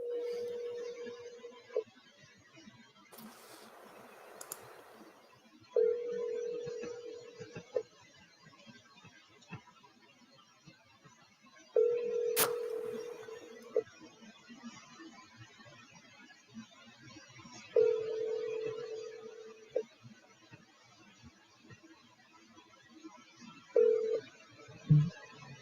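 A telephone call is placed on the line. Quiet dialing beeps lead into a repeating ringback tone in evenly spaced bursts with soft clicks between them, and a voice talks faintly in the gaps.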